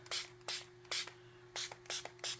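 A spray bottle spritzes water onto a watercolor painting in about six quick, sharp hissing bursts, close up, with a faint steady hum beneath.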